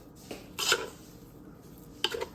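A spoon stirs potato salad with mayonnaise in a bowl, giving a few short scraping clinks against the dish separated by quiet pauses, close and fairly soft.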